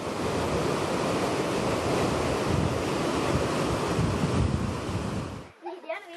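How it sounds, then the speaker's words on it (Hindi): Floodwater rushing down a mountainside after heavy rain in Kerala: a loud, continuous roaring wash of water that cuts off abruptly near the end, with no talk. "पहाड़ के नीचे की ओर बहते इस पानी को देखकर किसी के भी रोंगटे खड़े हो सकते हैं।"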